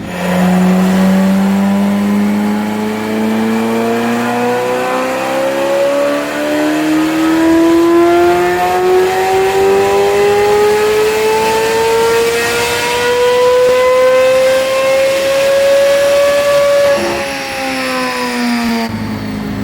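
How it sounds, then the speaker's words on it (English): Tuned Chevrolet Corvette C8 Z06 engine on a dyno, loud and close, revving in one long sustained pull that climbs steadily in pitch before dropping off near the end. "I'm going to dyno it again and see if it picks up any power"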